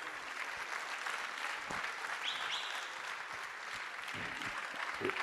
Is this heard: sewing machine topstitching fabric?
no